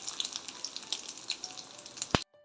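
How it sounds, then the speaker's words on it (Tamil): Mustard seeds, urad dal and dried red chillies hit hot oil for tempering, giving a close, continuous crackling sizzle with scattered sharp pops, one loud pop near the end before the sound cuts off. "இப்போ வந்து காயை தாளிச்சிக்கலாம்"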